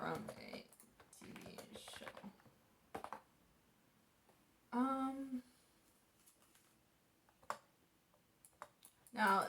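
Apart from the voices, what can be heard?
typing and clacking on a computer keyboard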